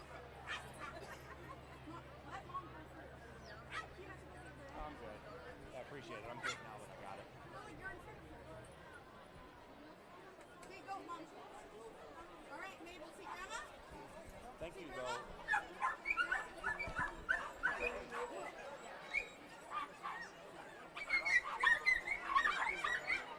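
Dachshunds bark and yip at a wiener dog race at Canterbury Park, the sparse barks rising into a busier cluster toward the end, heard beneath crowd chatter and a public-address voice.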